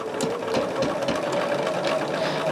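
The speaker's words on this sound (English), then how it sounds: "Now, when I sew my binding, I sew it at a 3/8." A sewing machine stitches quilt binding at a 3/8 seam, a close, steady mechanical whir with a fast needle rhythm that runs throughout.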